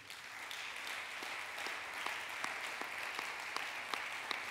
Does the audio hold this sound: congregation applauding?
yes